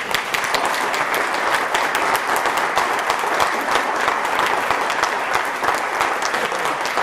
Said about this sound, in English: I've got a big round of applause for everybody.